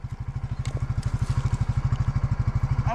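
Small tractor engine running steadily close by on a wooded landowner's property during tree-felling work, a fast regular chugging pulse with faint clatter on top and no talk.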